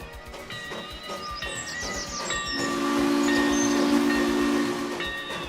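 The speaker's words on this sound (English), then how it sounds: "Every few hours, the town is lively with the sound of steam." A steam train rolls through a town in the Trainz game's Hatchet Creek route, its whistle sounding in several shrill tonal blasts over a continuous rumble and rail clatter that swells louder midway.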